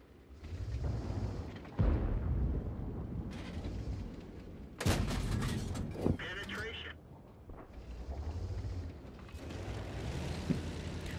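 Tank cannon fire in World of Tanks, a few sharp booming shots with rumbling tails amid engine drone and game effects, while a player talks over it.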